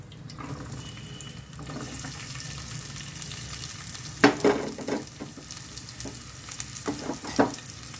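Sliced onions frying in hot oil for a fish dish, giving a steady close sizzle with a few louder crackling bursts and stirring clatter, no voices.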